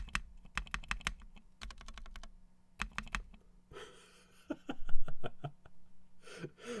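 Custom mechanical keyboard in a friend's themed FBTKL build, alpha keys typed in quick clusters of clacky strikes with short pauses, close and crisp, with faint breathing and a quiet voice near the end.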